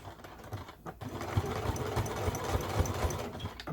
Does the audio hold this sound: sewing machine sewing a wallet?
yes